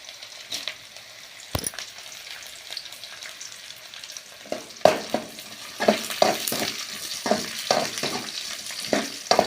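Dried red chillies crackle and sizzle in hot oil with onions for a snake gourd stir-fry, a steady hiss punctuated by sharp pops and spatula scrapes that grow busier toward the end, close and without talk.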